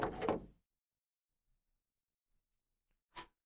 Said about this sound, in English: The second I opened the door, I heard Daru and Maho yelling.